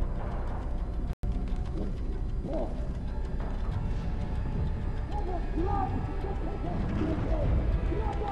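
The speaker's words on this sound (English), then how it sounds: "Release the pigeon!" Pigeon coos in the Battlefield 1 campaign, set in a muddy World War I tank battle, soft repeated burbling calls under continuous low rumble and game noise, with voices talking over it.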